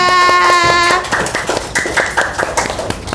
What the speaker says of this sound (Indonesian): Tepuk tangan dulu dong untuk kelompok 2